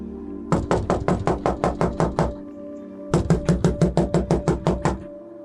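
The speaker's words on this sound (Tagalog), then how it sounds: "Malakas ang naging katok ni Lucia sa pintuan ng bahay." Loud knocking on a house door at night: two rapid runs of about ten hard raps each, close and sharp, separated by a short pause, with a low tonal hum underneath and no talk.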